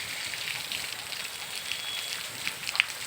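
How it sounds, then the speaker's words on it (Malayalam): Heavy rain falling in Tiruppur with water flowing: a steady dense hiss of rainfall at constant level, with a few brief drip-like ticks toward the end, no one speaking. "വെള്ളം ഒഴുകുന്നു. നല്ല മഴയാണ്."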